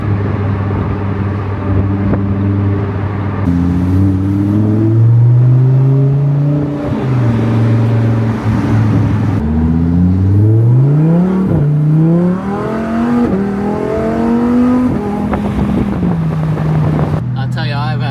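A Lamborghini sports car in Dubai accelerates hard, its engine note climbing through several gears with sharp shifts in between, loud and close with wind noise over it.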